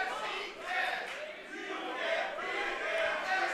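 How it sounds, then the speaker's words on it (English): Wrestling crowd at a Mike Bailey versus Brian Cage match chanting back and forth in a steady rhythm, a large indoor audience roaring continuously at moderate distance. "Half the crowd says you can't beat him. The other half says yes, he can."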